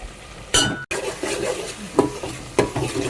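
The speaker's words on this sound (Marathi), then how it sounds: "त्याला मस्तपैकी एकत्र करून घेऊया" Spices such as hing, turmeric, onion masala and coriander powder are stirred in a pot for sambar, with a spoon scraping and clinking against the metal amid a faint sizzle, close and brief.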